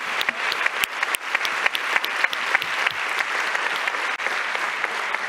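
An audience at a plenary session claps for its distinguished panelists, a dense and steady round of applause that stays even and continuous throughout, with a few sharper individual claps standing out.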